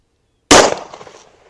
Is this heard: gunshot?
yes